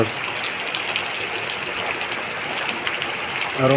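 Heavy rain falls steadily in Andhra Pradesh, a dense, even hiss of drops on surfaces that continues without break, fairly close, with faint sounds of people nearby.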